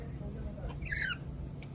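A pet gecko gives a small, high chirp indoors, a brief faint call under low room noise and background voices.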